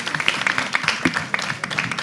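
Audience clapping for a jury's favourite finalist at a televised talent contest, a dense patter of claps with a voice talking over it, close and steady for about two seconds.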